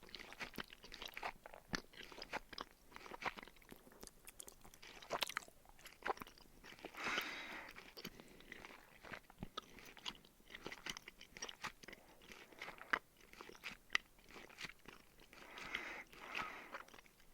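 Crunchy Joyride candy with a white filling is chewed close to the mic: quiet, irregular bites and crackly crunches with soft mouth sounds throughout.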